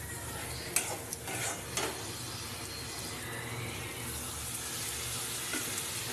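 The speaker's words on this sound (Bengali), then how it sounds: "তাও আর একটু কষিয়ে নেবো" Masala for a pabda fish curry with pumpkin being sautéed and stirred in a pan, a soft steady sizzle under a few light scraping clinks of the spoon near the start, close and fairly quiet with no talk.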